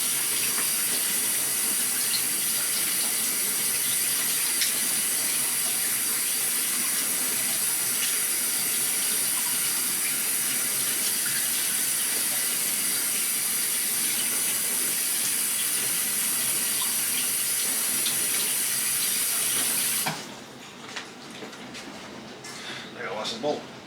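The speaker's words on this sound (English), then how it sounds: "I gotta wash this bowl." A mixing bowl is washed under a running kitchen tap, a loud steady hiss of water that lasts about twenty seconds, then stops abruptly, leaving quieter handling clatter.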